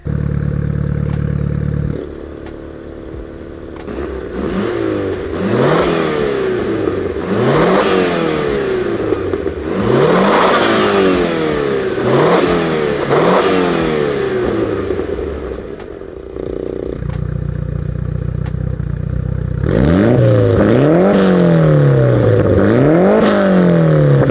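A Mitsubishi Lancer Evolution VI engine revs repeatedly with a loud, raspy aftermarket exhaust, rising and falling in sharp bursts, close by, with brief quieter idling between pulls.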